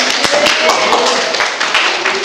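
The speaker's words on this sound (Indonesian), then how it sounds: "Tepuk tangan dulu dong." A group claps together in a classroom-style setting, a steady patter of hands lasting a couple of seconds, close and fairly loud with no voices on top.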